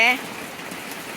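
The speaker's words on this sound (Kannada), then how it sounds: "ಗುಡ್ ಮಾರ್ನಿಂಗ್ ಹೇಗಿದೆ ಮಳೆ ಮಳೆ ಜೋರಾಗಿ ಬರ್ತಿದೆ" Steady, dense morning rain hiss in a village fills the whole clip, continuous and fairly loud, after a brief voice at the very start.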